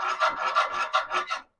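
A hand file rasps across metal, knocking off burrs from a freshly drilled hole, in about seven quick back-and-forth strokes, close and fairly loud, then stops.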